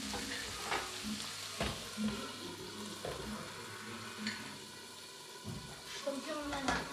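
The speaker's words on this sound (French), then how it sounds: "Surtout, continuez à mélanger." A carbonara sauce is stirred in a pan, with continuous soft sizzling and scraping under someone speaking French.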